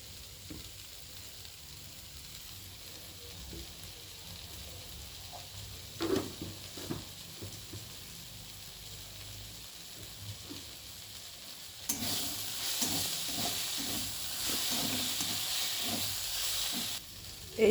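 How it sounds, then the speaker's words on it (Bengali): Leafy greens frying in mustard oil in a pan, a faint soft sizzle with occasional stirring scrapes, growing into a louder, steady hissing fry in the latter part. "এইভাবে যদি আপনারা শাক ভাজা করেন"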